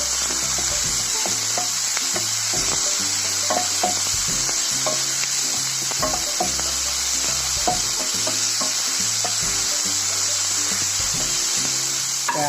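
Tomato stir-fried in a pan for egg upma gives a constant loud sizzle, with regular scraping and clinking of a spatula pushing the pieces around.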